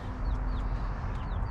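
Several soft clucks and chirps from chickens, fairly quiet and a little distant, over a low background rumble.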